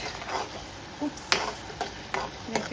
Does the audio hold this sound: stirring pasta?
yes